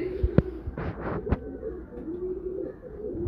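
Faisalabadi pigeons, also called Shah Parwaz, coo loudly and close by in a few rolling bursts, with sharp clicks and wing knocks between them and a low throaty murmur continuing underneath.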